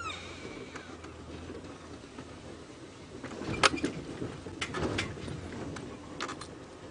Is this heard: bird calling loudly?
yes